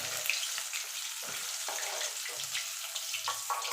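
Hissing, crackling oil frying tilapia fish, a continuous bright sizzle with small bubbling pops and a few soft clinks.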